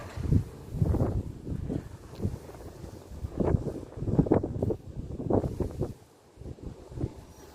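Strong gusts of wind buffet the microphone in uneven bursts in a garden in Brazil, a rough low rumble swelling and dropping, with faint rustling in the background.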